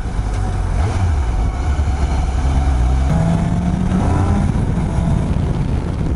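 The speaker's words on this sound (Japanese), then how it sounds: "回転数上がると本当気持ちいい音しますね。" A Suzuki GSX-S750 motorcycle engine revs up while riding, a loud, continuous engine drone whose pitch climbs and shifts under steady wind noise.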